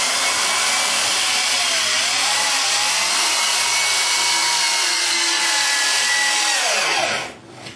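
A power tool runs continuously and loud for several seconds, attaching furring strips to a wall while converting 4-inch walls to 6-inch ones, then cuts off abruptly near the end; no talking.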